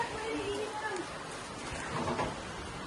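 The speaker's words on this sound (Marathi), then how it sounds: "पावसाचा नेम वाढत चाललाय" Steady rain falls at night outside a home, a continuous dense patter that swells slightly toward the end, with faint voices mixed in.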